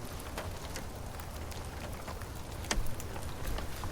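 Rain falling on a camper van parked in a redwood forest, a steady soft patter with scattered sharper drops tapping close by, continuous and fairly quiet.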